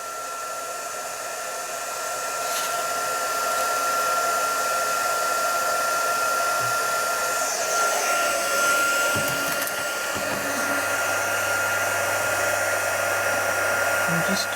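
A handheld craft heat tool used for paper stamping and a handmade gift box blows a steady, loud hairdryer-like roar that builds over the first seconds and then holds level throughout, with no talking.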